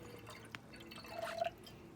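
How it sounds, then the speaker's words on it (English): Water is poured briefly into a clear plastic bottle for a homemade lava lamp. A short, quiet trickle rises slightly in pitch as the bottle fills, with a small drip near the start. "So we're gonna fill it up 1/4 up with water to start."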